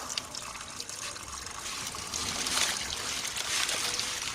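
Water poured and splashed to rinse light dirt off banyan roots after rain, a steady broadband wash that swells louder midway and runs continuously without talk.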